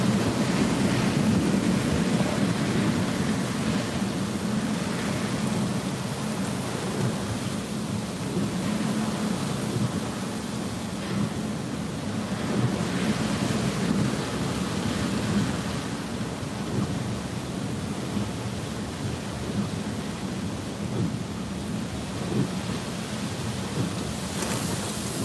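Steady roar of Hurricane Ida wind and heavy rain with rumbles of thunder, a dense continuous wash of storm noise that stays loud throughout with no voices.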